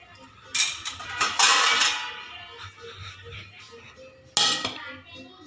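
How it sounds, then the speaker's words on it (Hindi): Plate and bowl clinks as a plate is set under a hot bowl of sweet vermicelli, with several clattering knocks early on and a sharp clink near the end, some talk mixed in. "तो गर्म बहुत है, प्लेट लगा लेती हूँ नीचे"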